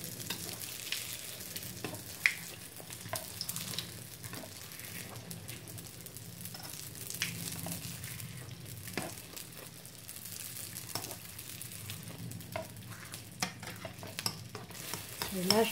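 Algerian sfenj beignets frying in hot oil, a steady soft sizzle and bubbling with occasional stirring clicks and scrapes throughout, moderately close with no voices.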